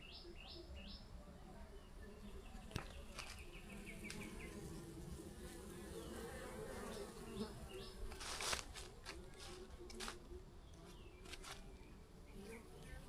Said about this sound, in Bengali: দেখুন মৌমাছির আওয়াজটা আমি আপনাকে শোনাচ্ছি